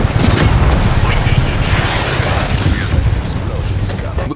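Loud, continuous rumbling blasts and booms from Just Cause 3 explosions, dense low-end roar with scattered crackling bursts throughout, steady and close with no pause.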